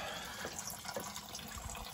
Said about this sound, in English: I am draining the water right now to get all the water out of the block